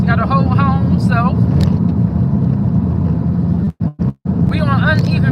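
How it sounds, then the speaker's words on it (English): A car rides over uneven pavement, giving a loud, steady rumble of road and engine noise beneath a person talking throughout, with a few brief dropouts near the end. "So if the car sound a little louder, it's because we riding on uneven pavement"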